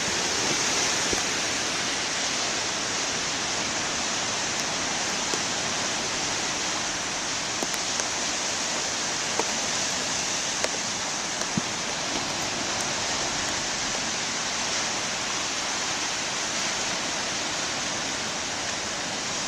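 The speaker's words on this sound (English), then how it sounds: "the waves aren't giants today, but they're not bad" Ocean waves breaking on a shore make a steady, dense wash of surf, continuous and moderately quiet, with no distinct individual crashes and no talk.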